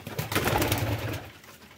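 A Van pigeon coos close by, a steady throaty rolling call lasting under two seconds, fairly loud and alone.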